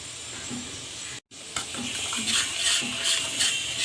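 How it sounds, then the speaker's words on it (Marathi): Water is poured little by little into bread pakora batter as it is mixed, a close wet hiss and gurgle that breaks off briefly and then returns with soft swishing pulses. "आता हे आपण थोडं थोडंसं पाणी टाकून मिक्स करून घेणार आहे"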